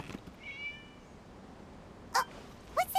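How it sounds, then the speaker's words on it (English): A cat in the video game Genshin Impact gives a drawn-out meow early on, faint against a quiet background, followed by a few short, sharp clicking game sounds. "It was just a cat."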